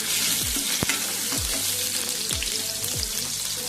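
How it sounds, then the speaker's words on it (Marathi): Chopped ginger for a momo filling sizzles in hot oil in a pan, a dense continuous frying crackle with several sharp knocks of a spatula against the pan and no voices. "कांद्याच्या आधी आपण अद्रक आपली जी चॉप केलेली आहे ती टाकणार आहोत। एक हलकं याला परतून घेणार आहोत।"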